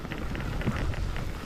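Steady rain hisses across the whole moment at night on a downhill trail on Mayon volcano, a dense, even wash of falling drops with a low rumble underneath and no voices.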